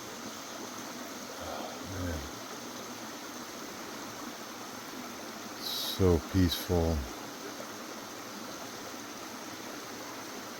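A gentle stream flows at a water crossing on a forest backpacking trail, a soft steady wash of water running continuously while a hiker speaks briefly partway through.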